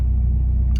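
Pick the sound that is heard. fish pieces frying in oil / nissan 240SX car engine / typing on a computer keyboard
nissan 240SX car engine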